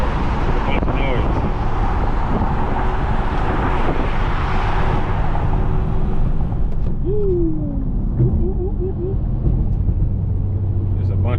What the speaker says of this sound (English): There's a bunch of noise, man. These dudes be trying to like race or something.